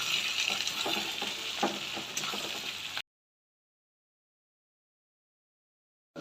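Onions fry in hot oil with a dense crackling sizzle and the scrape of stirring for about three seconds. Silence follows, then a brief burst of sound returns at the very end.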